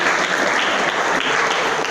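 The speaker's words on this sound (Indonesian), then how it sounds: "Tepuk tangan untuk kita semua." Steady, dense applause fills the space from a student audience in a classroom at SMK Negeri 1 Gombong, many hands clapping continuously at an even, loud level with no voices standing out.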